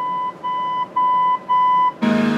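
A 1965 Ford F100's original AM radio gives a single steady electronic beep from its tone control, a clean pure tone pulsing through several short segments before louder radio sound cuts in at the end.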